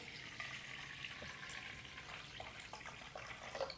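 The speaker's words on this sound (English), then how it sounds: "So we're going to pop some water into our bowl," Water is poured into a bowl, a faint, steady trickling splash with a few small drips, quiet and continuous throughout.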